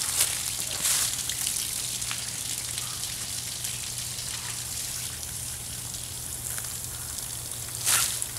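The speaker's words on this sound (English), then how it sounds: "I'm going to turn the water off." A tap runs during a Mercury 25hp outboard prop shaft repair, giving a steady hissing splash of water at low level with a faint hum beneath and a few brief louder bursts.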